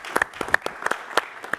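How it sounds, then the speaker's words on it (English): A conference audience at a monetary policy research forum gives a short burst of applause, with scattered, uneven claps popping out at irregular intervals rather than a full wash of sound. "Final applause."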